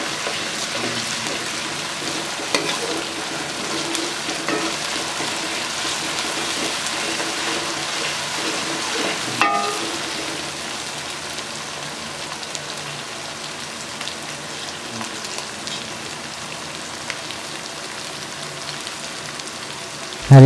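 Ginger and garlic frying in a pan give a soft, continuous crackling sizzle that stays even throughout, with a single small clatter midway.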